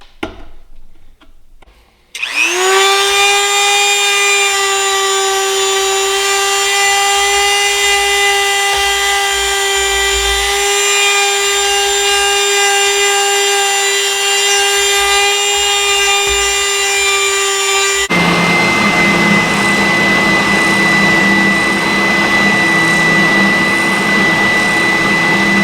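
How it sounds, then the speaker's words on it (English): A Dremel rotary tool spins up after a few quiet seconds and grinds steadily and loudly, shaping the inner part of a knife handle made for an ulu knife cut from a saw blade, its whine turning rougher and noisier in the last stretch. "we'll shape this inner part of the handle using a Dremel tool"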